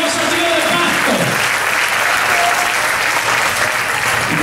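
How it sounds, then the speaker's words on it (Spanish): A church congregation breaks into loud, sustained applause during a Spanish-language sermon, dense clapping filling the room steadily throughout with a faint voice briefly over the start. "Dese un aplauso al Señor, ¿eh?"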